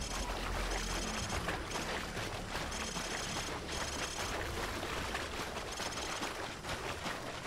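A vehicle approaching in the Call of Duty Modern Warfare 3 video game, a faint steady engine drone and rumble, with a regular pulsing hiss over it.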